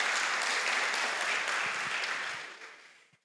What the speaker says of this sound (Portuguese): Uma salva de palmas para esse texto.